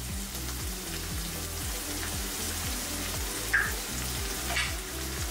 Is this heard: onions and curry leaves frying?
yes